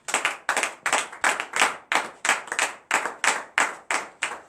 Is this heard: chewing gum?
no